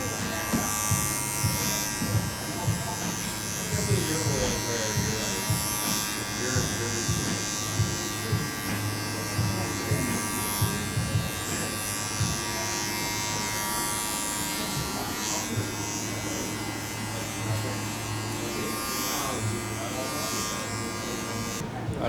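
Electric hair clipper tapering and fading a man's hair, a steady close buzz running throughout with short pauses and shifts in pitch as it moves across the head, with a person talking over it.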